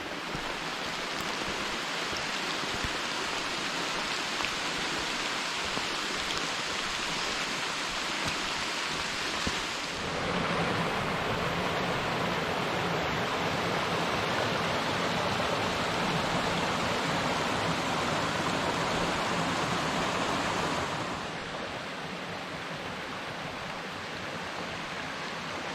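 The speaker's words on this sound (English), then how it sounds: "I know it's raining" Steady rain falls beside Little Laurel Run, a stream on the Quehanna Trail, as a dense, continuous wash of hiss and rushing water with no voices, swelling louder through the middle stretch before easing back slightly.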